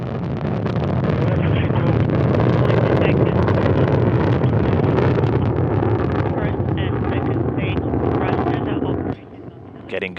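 Soyuz rocket with four strap-on engines in its core stage roaring during launch, a loud, steady broadband rumble that holds for about nine seconds before dropping off, with a voice talking over it.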